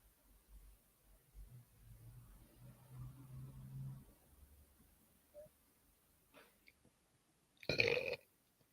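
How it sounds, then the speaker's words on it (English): A single short, loud burp near the end, close to the mic, after quiet low rustling and faint background murmur. "I just burp."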